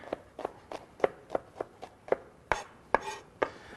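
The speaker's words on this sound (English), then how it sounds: "I like to just kind of mash them down a little." Garlic cloves mashed down on a board for arugula chimichurri, about a dozen sharp, evenly spaced thumps and knocks in a steady rhythm, close and fairly quiet, with no talking.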